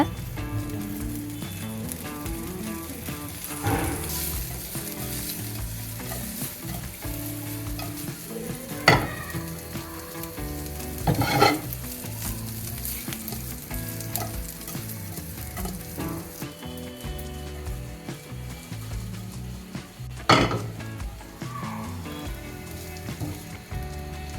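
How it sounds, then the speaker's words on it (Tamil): Baby potatoes with fresh mint leaves fry in a pan under a continuous crackling sizzle. A spoon scrapes and stirs now and then, with a few louder strokes standing out. No voices are heard. "ஃப்ரெஷ் புதினா லீவ்ஸை நம்ம ஆட் பண்ணிடலாம் இந்த இடத்துல"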